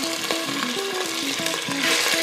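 Small chopped chicken pieces sizzle and crackle in a pan while cooking a simple galinhada, with a continuous close frying hiss and repeated short knocks of the pieces being handled and stirred.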